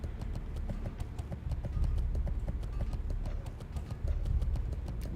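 A horse mount gallops in World of Warcraft: Burning Crusade Classic, its hooves drumming a quick, regular clip-clop rhythm that carries on without a break, fairly close and alone with no voices.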